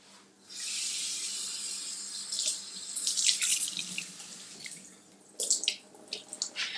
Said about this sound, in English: let me rinse off my blueberries